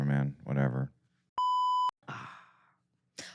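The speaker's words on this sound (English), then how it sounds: "So I'm going to have to put a beep in there." A single censor beep, a pure steady electronic tone about half a second long, cuts in between stretches of a man's casual speech and sighing.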